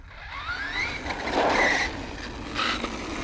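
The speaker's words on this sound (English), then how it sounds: "you do not need the handbrake to do a J-turn, which is just that right there" An Arrma Fireteam RC car whips through a reverse J-turn: a rising electric motor whine, then a short squeal of tires and scuffing as it spins around, all close by.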